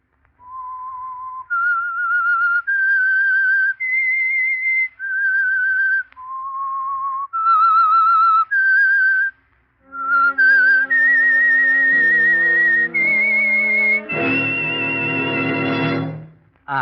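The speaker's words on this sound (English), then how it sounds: "That whistle is your signal for the Signal Oil Program," A lone whistled melody serving as the theme signal of the radio mystery program The Whistler, a series of clear sustained pitched phrases, then joined by a fuller orchestral swell toward the end, loud and close.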